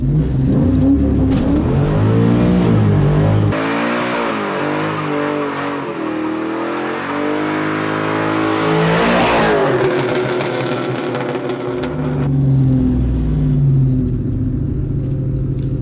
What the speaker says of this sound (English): I'm going to have to get a little heat in the tires.